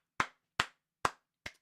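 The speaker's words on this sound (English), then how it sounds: "Please clap." Four sharp hand claps, evenly spaced and fairly close, each a crisp isolated burst with a quick decay and silence between.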